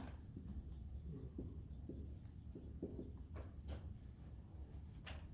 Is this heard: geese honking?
no